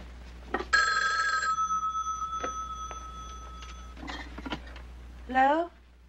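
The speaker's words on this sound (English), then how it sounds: "Doremus, pick up the phone." An old-style telephone bell rings in short bursts in a quiet room, with rustling, clicks and a brief voice-like sound near the end.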